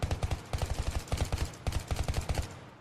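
Rapid bursts of automatic gunfire in the Battlefield 3 beta, aimed at an EOD bot, come in several quick clustered volleys with short gaps between them. The shots are loud and close, with no talk over them.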